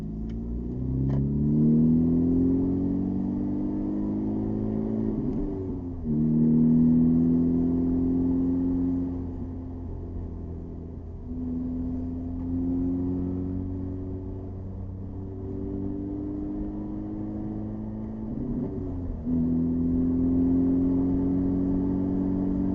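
A car drives at night with a steady, close engine hum and rumble; the pitch rises and falls several times as it accelerates and shifts, with no talking.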